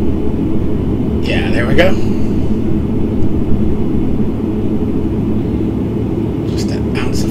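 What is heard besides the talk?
ATR72-500 engines at throttle in the video game Prepar3D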